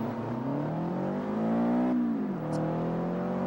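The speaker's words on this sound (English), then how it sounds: "when the exhaust is upgraded on this car, it sounds really, really nice." In the Forza Horizon racing game, a car with an upgraded exhaust revs up in a rising, steady engine tone, drops sharply after a shift, then settles into a lower drone, with no talk over it.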